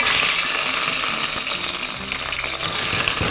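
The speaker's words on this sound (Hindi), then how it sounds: "तेल पूरा गरम करें, उसके बाद हड्डी डालें" Mutton bones frying in hot oil give off a loud, steady, crackling sizzle that stays close and even for the whole stretch, with no talking.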